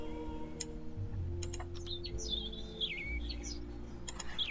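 A small bird chirps and sings nearby in short bright tweets and a warbling phrase, with soft clicks and a low indoor hum beneath.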